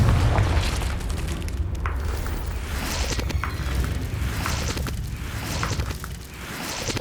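Confringo fire spell from Hogwarts Legacy bursting with booming, crackling explosions, a steady roaring blast texture with a few sharper pops spread across the stretch, loud and close.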